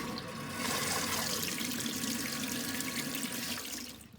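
Steady rush of water flowing hard through a Chevy 350 Turbo transmission part, loud and continuous for a few seconds before easing off at the end.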